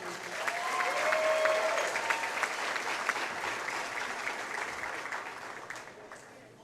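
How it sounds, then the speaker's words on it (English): Crowd applause fills a gym at a high school basketball senior night, steady and fairly loud at first, then slowly thinning out over several seconds with no talking. "Everyone, please give a round of applause for senior basketball player number 1, Gabe Robinson."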